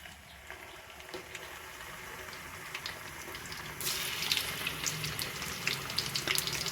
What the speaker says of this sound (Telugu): ఆయిల్ ఇలా లైట్గా హీట్ అయినప్పుడు మనం ఇందులో అల్లం వెల్లుల్లి పేస్ట్ వేసుకుందాం